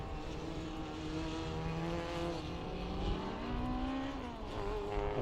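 Improved Production race cars of mixed engine sizes, under and over 2 litres, roll out onto the circuit at One Raceway, several engines droning and rising in pitch at a moderate distance, with no voices.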